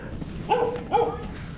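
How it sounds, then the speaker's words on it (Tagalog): Dogs bark twice in quick succession at a rest house in San Felipe, Zambales, the barks moderately close and clear over quiet outdoor background. "Daming aso."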